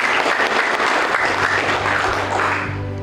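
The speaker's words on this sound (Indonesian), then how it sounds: "boleh berikan tepuk tangan yang meriah untuk kedua mempelai" Loud, dense applause for the bride and groom at a church wedding blessing, a sustained wash of many hands clapping that fades slightly at the end.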